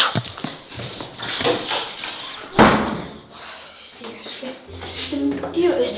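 A door slams once with a sharp, loud bang partway through, amid excited talking, a dog whimpering, and shuffling indoors.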